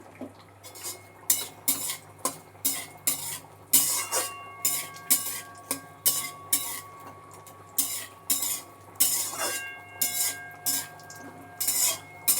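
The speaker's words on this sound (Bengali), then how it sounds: "এবার এগুলোকে খানিকক্ষণ নাড়াচাড়া করে একটু ভেজে নেব কাজু কিশমিশটা" Cashews and raisins fried in a pan for mixed pulao, stirred with a metal utensil: a steady rhythm of sharp clinks and scrapes against the pan, about two strokes per second, close and unaccompanied by talk.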